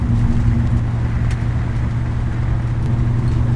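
A 1957 Chevrolet Bel Air driving along, heard from inside as a steady low engine and road rumble, smooth and constant with no distinct rattles.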